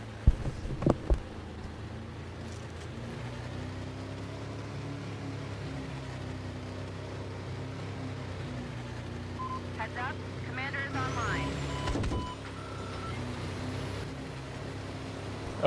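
A vehicle drives in a video game with a steady, low engine drone that holds at a constant pitch, with a few faint tonal blips and a brief swell partway through.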